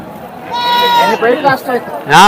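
Sheep bleat loudly and close by at a livestock market in Tirupati, with wavering, quavering calls in quick succession and a final sharp bleat.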